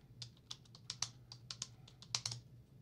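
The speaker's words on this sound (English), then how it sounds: "let's type in cycle progression." Keys on a computer keyboard clatter in a soft, irregular run of individual presses, quick and close, with a faint steady hum underneath.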